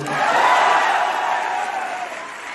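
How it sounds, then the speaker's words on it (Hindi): A large audience at a university poetry recital (kavi sammelan) erupts in a loud, sustained wash of applause and cheering that holds steady, then tapers slightly toward the end. "अगली बार पे तालियां और फोड़ देना"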